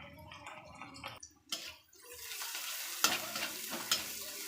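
Chopped onion tossed with turmeric and salt sizzles in a pan for a Bengali kanchon bhaji, a steady frying hiss broken by scraping stirs and a brief lull before the sizzle swells again, close and moderately loud.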